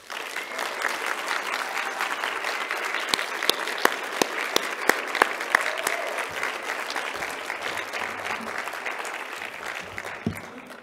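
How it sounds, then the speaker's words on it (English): Sustained applause from a conference audience at the WACA 2022 National Conference on the Air Force, dense clapping steady throughout with a few sharper, louder claps standing out near the middle. "applaud these guys."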